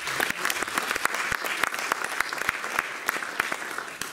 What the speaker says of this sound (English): if you want to really give an applause